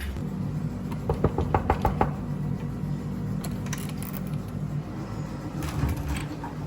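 A knuckle raps a hotel room door in Bali about six times, quick and close, over a steady hum of room ambience. A few fainter taps and small rustles follow.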